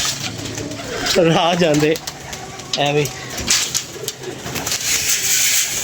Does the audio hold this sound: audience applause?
no